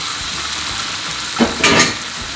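Small-cut pieces of duck meat with skin and a little fat frying in a hot pan, a steady loud sizzle that swells into a sharper hiss as the meat hits the oil.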